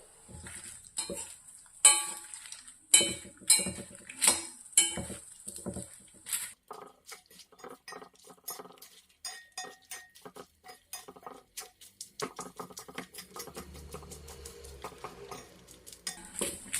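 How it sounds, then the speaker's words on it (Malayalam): A spoon stirs fried papadam into sautéed onion, grated coconut, curry leaves and chilli in a pan, with repeated clinks and scrapes against metal over a faint sizzle, close and uneven in rhythm. "ഇനി നമുക്ക് ഇതിലേക്ക് വറുത്ത് വെച്ച പപ്പടം ചേർത്ത് കൊടുക്കാം എന്നിട്ട് നല്ലതുപോലെ മിക്സ് ചെയ്യുക"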